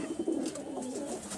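Breeding pigeons coo in a loft, giving a short, soft, throaty call that rises and falls once and sits close and fairly quiet over faint room hiss.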